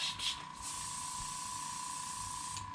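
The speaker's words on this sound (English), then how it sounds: "this paint you tend to have to spray a little on the thinner side" A spray gun painting a '70 Chevelle SS 454 puts out a steady, close, even hiss the whole time, with no breaks and no voices.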